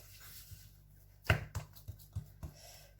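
A blade cuts through dough to make circles for Turkish borek: a sharp knock on the work surface followed by several lighter taps and presses, close and quiet, with no talking.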